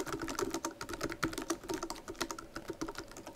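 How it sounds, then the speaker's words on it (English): Rapid, quiet clicking of keys on a computer keyboard, an irregular stream of soft taps typed in short bursts with no voices. "I need to type this first"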